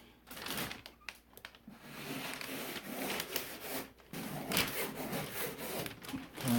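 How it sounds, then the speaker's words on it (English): Light, steady rubbing and scraping of a sanding sponge across orange peel drywall texture, in repeated strokes with brief pauses. "I just very lightly take the sanding sponge"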